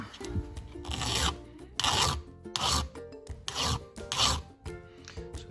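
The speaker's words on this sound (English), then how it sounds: "you can kind of also hear and feel if the file is catching on the raker" A hand file sharpening a chainsaw chain rasps back and forth in about six loud, gritty strokes with short pauses between them, catching on the raker, close up with no talking.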